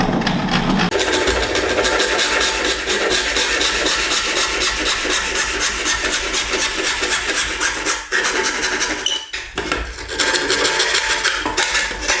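Handsaw cutting a wooden skirting board at a slight angle: close, continuous rhythmic rasping strokes for several seconds, with a brief pause and a knock before the sawing resumes.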